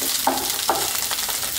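Golden brown garlic frying in a pan with the heat turned down to a simmer, giving a steady bright sizzle with a couple of soft stirring scrapes, close and fairly loud, with no talking.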